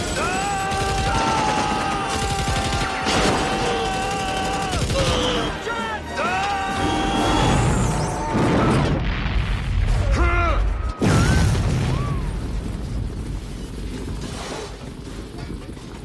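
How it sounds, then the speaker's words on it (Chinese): Machine-gun and cannon fire rattle through a battle scene from the film Rambo III, where a tank fights a helicopter, ending in a sudden sharp explosion; dense and loud, mixed with music and voices. "男主索性呢也加满油门，机枪大炮火力全开，直接把桑波打成了筛子。 最终一声爆炸之下"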